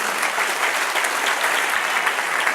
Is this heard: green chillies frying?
no